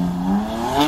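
A BMW's engine as the driver lifts off the power mid-slide: a steady, close engine drone whose pitch eases and shifts slightly over a single second, with no voices.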